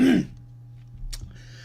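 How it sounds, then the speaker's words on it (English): A single brief, raspy throat clearing, close and fairly loud, followed by quiet with a faint hum in the background. "if you hear me kind of clearing my throat"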